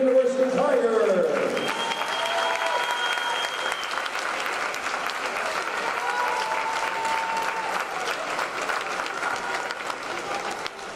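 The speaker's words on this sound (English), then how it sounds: "one last round of applause for head coach Cameron Hill of the Trinity University Tigers" Sustained crowd applause at a women's college basketball championship semifinal award ceremony honoring a head coach, loud and steady clapping from a large audience. It follows a brief announcer's voice at the start.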